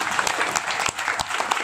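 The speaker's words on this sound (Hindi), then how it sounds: "उसके लिए तालियां हो जाएं भाई।" Audience applause bursts out dense and steady at an online healing session, a short, full wash of clapping with no voices over it.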